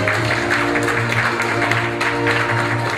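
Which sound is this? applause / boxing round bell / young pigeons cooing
applause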